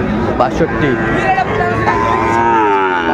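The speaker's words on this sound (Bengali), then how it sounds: "গরু দেখছিলাম এখানে" Sahiwal cattle and calves moo repeatedly at a busy livestock market in Dinajpur, the long lowing calls close and loud over a background hum of crowd noise.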